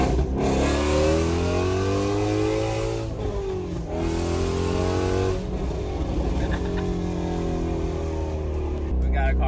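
A Ford Mustang GT350 V8 engine running after an oil change, a loud, close, throaty drone with rises and dips in revs and a short lull partway through, heard alone for several seconds.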